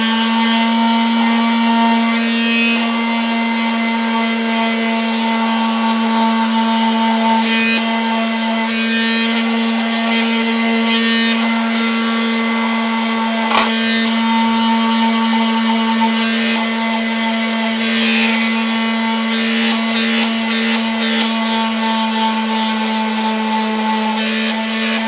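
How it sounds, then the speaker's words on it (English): A Porter Cable orbital sander smooths the edges of an Iron Man Mark VII arm prop part, buzzing loudly and continuously throughout with a steady motor hum and fluctuating scratchy sanding texture. "this is my best friend right here, Porter Cable orbital sander. So what we're gonna do is we're gonna smooth out the edges."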